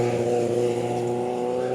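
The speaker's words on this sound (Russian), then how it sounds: "Мотоцикл пронесся." A motorcycle speeds past on a seaside resort promenade, its engine giving a steady, fairly loud buzzing drone that holds for the whole moment with no voices.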